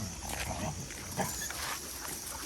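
Dogs play roughly together on a durian farm in Thailand, making close, bursty growls, snorts and scuffling noises that run through the whole moment.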